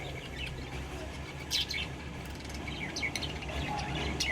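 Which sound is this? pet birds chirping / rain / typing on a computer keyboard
pet birds chirping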